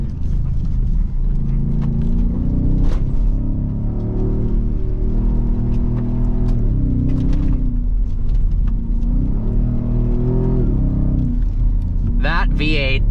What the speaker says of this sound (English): That V8 sounds so incredible.